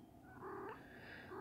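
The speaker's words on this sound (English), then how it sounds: "Stop, cat. That's my cat." Domestic cat vocalizing nearby indoors, with a drawn-out meow-like caterwaul rising over a low purring rumble and the steady hum of air conditioning.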